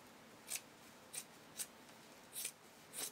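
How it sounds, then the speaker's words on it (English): Scissors snip through excess fabric trimmed beyond a stitching line on a vintage-style Bambi bra, five short crisp cuts spaced unevenly, close and fairly quiet with no talk. "I'm going to trim back the excess fabric that extends beyond my stitching line"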